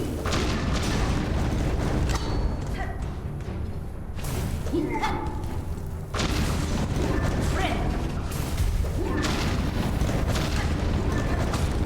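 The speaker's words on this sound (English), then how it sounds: "This explosion radius is so large. It should not be this large." Explosions in the video game Silksong, heavy booming blasts with rumbling low thuds repeating over a dense, loud game soundscape.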